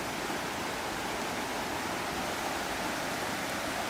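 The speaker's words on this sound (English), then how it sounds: "But you are going to be met with the West Fork Creek, or the San Gabriel River." The West Fork Creek of the San Gabriel River flows steadily along a hiking trail, a broad, even rush of water that fills the whole clip at constant volume with no voices.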